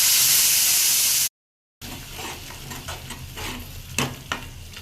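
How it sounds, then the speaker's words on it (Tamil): Curry leaves and a dried red chilli tempering in hot oil, a steady close crackling sizzle with bursts of spattering, broken by a brief gap of silence before the frying resumes louder. "கருவேப்பிலையும் ஒரு வரமிளகாயும் போட்டு தாளிச்சிக்கலாம்"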